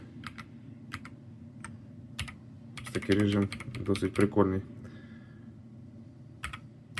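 A Keychron C3 Pro keyboard clicks in scattered single keypresses and then a quick burst of typing in the middle, crisp and close, while a voice speaks over parts of it.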